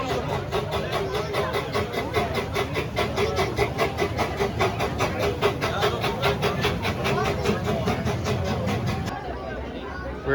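Hersheypark amusement park train engine pulling out of the station, a rhythmic chugging hiss with steady clacking that runs for several seconds then cuts off, with crowd noise around.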